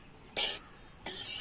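Puffed rice snack (ogani) being tossed and mixed in a bowl, two short bursts of dry crisp rustling and light clinking separated by a brief quiet gap.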